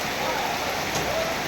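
Heavy monsoon rain pours down in the Ratanmahal area, a dense, even hiss of downpour with no pauses and nothing else standing out.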